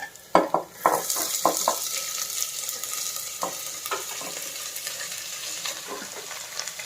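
Chopped onions go into hot oil with ginger and garlic for an egg curry, setting off a loud close sizzle. Sharp ladle scrapes and knocks against the pan come early, then the frying settles into a softer steady hiss.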